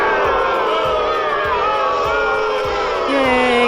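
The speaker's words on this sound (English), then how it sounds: "Everyone cheer." Crowd cheering and whooping throughout, with a rhythmic low pounding underneath and a rising tone near the end, loud and dense, as if a studio sound effect.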